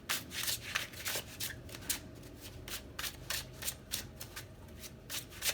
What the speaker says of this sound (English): it's not by shuffling